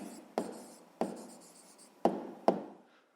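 Pen strokes on paper while noting a point's quadrant in a sixth-grade coordinate-plane exercise, heard as several sharp, close scratches with short pauses between them, with no talking.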